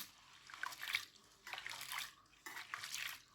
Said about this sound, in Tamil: இதை தண்ணியில் போட்டு அலசிடணும், நல்லா இப்படி கழுவிடணும்.